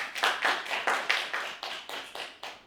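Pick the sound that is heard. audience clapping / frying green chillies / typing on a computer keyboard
audience clapping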